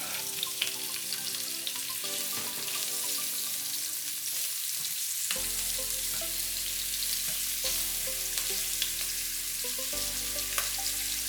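Beef sausage fries in olive oil with a steady, dense sizzle that holds loud and unbroken throughout, close up and with no voices.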